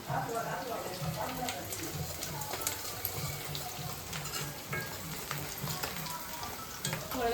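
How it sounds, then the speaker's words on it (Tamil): Green chilies and curry leaves sautéing in oil for a fish curry, a continuous sizzle with stirring scrapes, heard under ongoing conversation among friends cooking together. "பச்சை மிளகா கருவேப்பிலை போட்டு வதக்கிட்டு இருக்கேன்"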